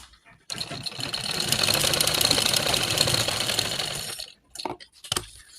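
A sewing machine runs fast, stitching a seam as it turns, giving a loud, steady whirring buzz for about three and a half seconds before stopping, followed by a few short clicks and knocks.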